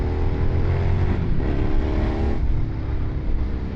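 Steady engine drone and the hum of dense, slow-moving rush-hour traffic, heard from a motorbike riding through Denpasar on a weekday evening, continuous and fairly loud with no talking.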